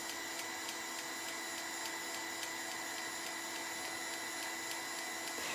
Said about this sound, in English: And now, of course, I will dry it so it is easier for me to keep the things in place.